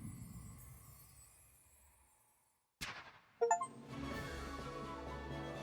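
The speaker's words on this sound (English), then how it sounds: "the achievement sound you heard" Achievement-unlocked chime from the video game Astrea: Six-Sided Oracles, a sudden bright metallic ding with quick clinking tones rising out of near silence, followed by a lingering musical tail.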